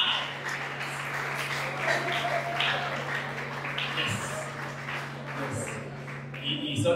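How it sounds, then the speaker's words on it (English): Round of applause for a Provost at a ceremony, sustained crowd clapping at moderate loudness with a steady hum underneath and people talking over it. "Please help me celebrate with a resounding round of applause the Provost, Mr. Benga Adifaye."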